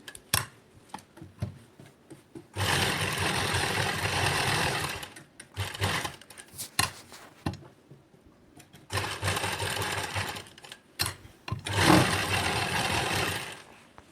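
A sewing machine stitches the neckline of a matching suit with lace in bursts of steady, rapid whirring, stopping and starting several times, close and loud.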